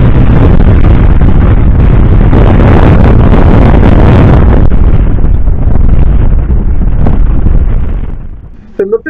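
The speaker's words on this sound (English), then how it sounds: "It wasn't long after that last forecast and the wind speed really picked up." Strong wind from Tropical Cyclone Oma roars and buffets the microphone aboard a boat, a loud sustained broadband gust that eases off near the end with a few faint knocks.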